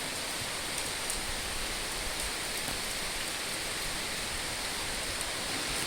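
Heavy rain falling on a farm, a dense, even, hissing downpour that stays steady and close for the whole stretch, with no voices.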